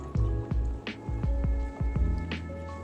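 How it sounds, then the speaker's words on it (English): Water drains from the bottom of a freshly watered hoya pot, soft drips and squishy trickles falling at an irregular, close rhythm over a low hum. "Now it's draining."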